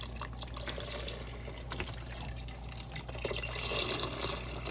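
Chicken broth pours steadily from a plastic container into a soup pot of ground turkey and cabbage, a continuous close splashing trickle that swells toward the end.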